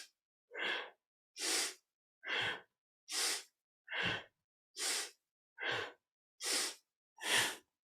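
Rhythmic, forceful breaths of dynamic kundalini yoga breathing while the spine undulates, nine strong breaths at an even pace of about one per second, close and loud with silence between them.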